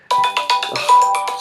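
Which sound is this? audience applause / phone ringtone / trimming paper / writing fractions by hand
phone ringtone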